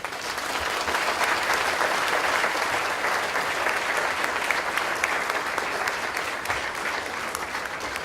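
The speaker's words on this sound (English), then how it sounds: "Let us give them a round of applause." Sustained applause from a conference audience at a housing event, a dense, even wash of clapping that holds steady at full strength for about eight seconds with no voices over it.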